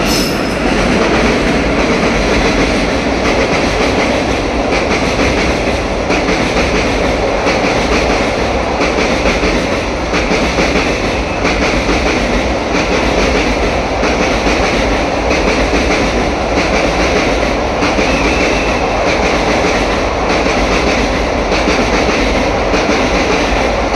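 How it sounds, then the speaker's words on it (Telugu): The Guntur–Secunderabad Express pulling out of Kurnool station, a loud, continuous rumble of rolling rail cars with steady clickety-clack and faint wheel squeal, close by and unbroken for the whole stretch. "గుంటూరు సికింద్రాబాద్ ఎక్స్ప్రెస్ కర్నూలు నుంచి అయితే డిపార్ట్ అవుతుంది"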